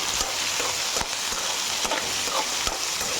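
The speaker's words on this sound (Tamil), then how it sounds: "இதையும் நல்லா போட்டு வதக்கிக்கலாம்." Potato and brinjal pieces sautéing in oil give a steady, close sizzle, broken by a few sharp scrapes and knocks as the spoon turns them.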